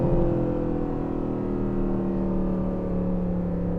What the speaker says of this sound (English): And it just wants to go and go and go and rev.